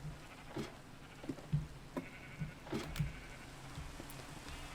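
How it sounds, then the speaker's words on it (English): Sheep bleat in Minecraft: a few faint, short bleats come at irregular intervals over a quiet background hiss. "up here are where the actual sheep are"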